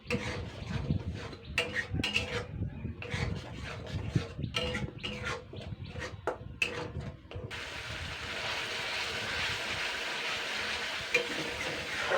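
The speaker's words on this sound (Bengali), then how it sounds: "মশলাটাকে জাস্ট আমি তিন মিনিট মতন তিন চার মিনিট একটুখানি কষিয়ে নেবো" Spice paste for a Barisal-style prawn dish is fried and stirred in a pan, with rapid irregular scraping and clattering strokes over a sizzle. The stirring stops partway through, leaving a steady sizzling hiss.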